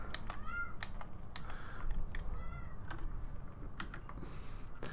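A pet cat meows several times after being fed, short rising calls standing out over steady keyboard typing and a low background hum, fairly close and moderately loud.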